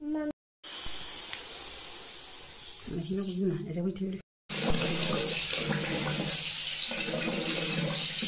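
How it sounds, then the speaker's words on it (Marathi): Finger millet grains are washed under running water, which hisses and splashes steadily in a sink for several seconds, cut by two brief gaps. A person talks over the flow. "आता ही नागली मी स्वच्छ धुवून घेते 2-3 पाणी"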